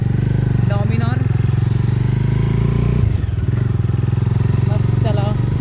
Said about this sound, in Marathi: दादाची नवीन बाईक